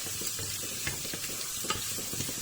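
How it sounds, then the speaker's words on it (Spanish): Garlic frying in a shallow film of oil, a steady close hiss broken by light scraping stirs and small clicks of a utensil against the pan, with no voices. "voy a pasar a freír nuestras verduras. Primero de todo le voy a añadir el ajo. Le damos unas vueltecitas."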